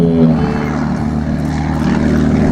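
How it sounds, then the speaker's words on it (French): Bücker 131 two-seat biplane flying at an air show in Margny-lès-Compiègne, its propeller engine droning loud and steady throughout without pause. "Biplace, donc avec le Bucaer 131."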